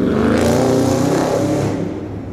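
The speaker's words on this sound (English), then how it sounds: "it's another form of noise campaign where they'll have vehicles driving by" Cars rev loudly and drive past close by, a dense, continuous roar of engines and tyres that stays strong before easing slightly at the end, with no voices over it.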